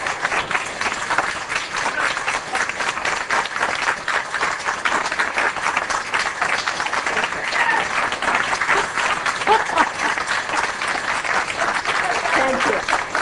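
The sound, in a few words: audience applause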